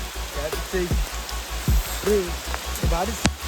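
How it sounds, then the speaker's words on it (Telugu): Heavy monsoon rain falls in the Ananthagiri Hills as a steady hiss under close voices that talk and exclaim over it. "ఇంత వర్షం పడుతుంది ఫ్రెండ్స్."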